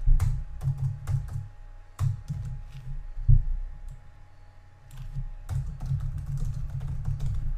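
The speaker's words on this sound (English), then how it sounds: "And then we're going to type in hello everyone" Keystrokes on a computer keyboard tap out in quick bursts with brief pauses between them, close and moderately loud over a low background hum.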